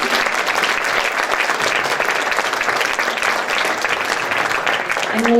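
An audience at a city candidates forum claps steadily and loudly for the whole stretch, a dense, sustained round of applause with no talk over it.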